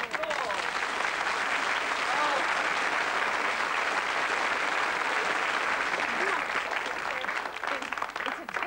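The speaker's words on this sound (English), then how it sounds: "Applause," A studio audience applauds loudly and continuously for several seconds, a dense, even wash of clapping with little variation, close and full throughout.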